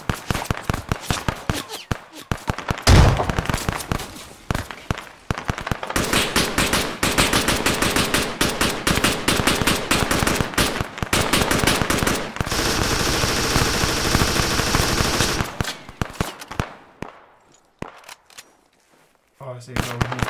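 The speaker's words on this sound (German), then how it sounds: "Wir haben hier schweren Beschuss." Heavy machine gun fire in the military shooter ArmA 3, long dense bursts of rapid shots rattling almost without pause, dropping out briefly between volleys, with a few faint voices underneath.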